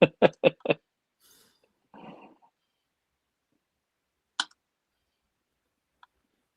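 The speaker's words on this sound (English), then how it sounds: "That was an aggressive click." Computer mouse clicking at a desk: four quick, sharp clicks in a rapid row, then a long quiet gap before one louder single click and a faint tick near the end.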